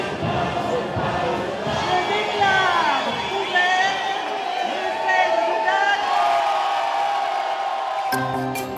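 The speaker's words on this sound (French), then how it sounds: "La foule en blanc et rouge s'apprête à faire la fête." Dense festive crowd in white and red filling the streets of Dax at the opening of the ferias, a steady loud wash of many overlapping voices, chatter and occasional whoops close around, continuing throughout before an abrupt change near the end.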